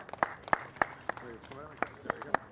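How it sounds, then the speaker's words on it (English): Sparse, distinct hand claps from a small crowd greet a keynote speaker at a Pakistan flag raising ceremony, about a dozen separate sharp claps with a voice speaking between them. "please give a round of applause to our Dr. Parvez Iqbal"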